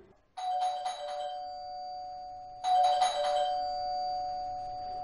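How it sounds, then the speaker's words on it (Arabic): A doorbell rings twice in an Omani TV drama from 2004, each ring a bright two-tone chime that lingers and fades, the second following about two seconds after the first, with no talk over it. "من هذا يضرب الجرس كذاك؟"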